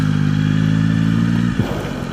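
Motorcycle engine idling while warming up, a loud, close, steady low rumble with a rapid regular pulse that suddenly drops away with a clunk near the end, leaving a quieter rough hum.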